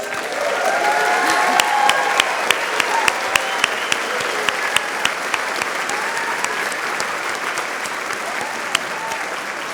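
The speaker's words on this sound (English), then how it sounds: "feel free, show your enthusiasm, and cheer for our new graduates" Audience applause at the Schulich School of Law spring convocation at Dalhousie University, a dense, steady roar of many hands clapping in an auditorium, with occasional sharp claps standing out and no speech.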